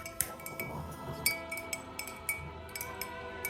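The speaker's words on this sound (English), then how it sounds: "And then as we're stirring," A spoon stirring an alcoholic drink in a glass, giving quick, bright clinks that repeat in an uneven rhythm, close and fairly quiet over a low background hum.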